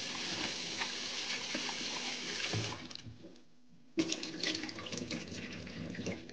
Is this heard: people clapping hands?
no